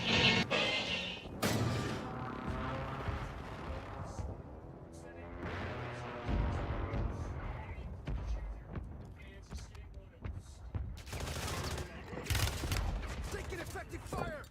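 Gunfire and explosive crashes in a Call of Duty multiplayer match, with repeated loud bursts and impacts scattered throughout, heard under steady game voice lines and player chatter.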